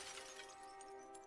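A brittle, glassy shattering sound from the video game Dredge as the collector's face breaks apart and falls, a faint, steady crackle with sparkling high fragments over a sustained low tone, no talking.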